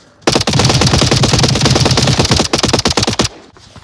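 A long, close, rapid stream of automatic rifle fire in the VR shooter Onward rattles steadily for about three seconds, then breaks into a few short bursts before stopping.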